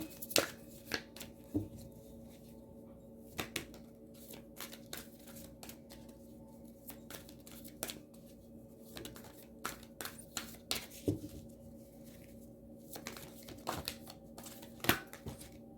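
A Ganesha card deck being shuffled, giving soft, quiet papery riffles and taps in irregular bursts over a faint steady background hum, with no talking.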